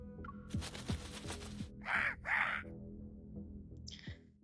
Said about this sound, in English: Suddenly, a crow soars in and dives towards the search party's leader, its razor-sharp wings aimed at him.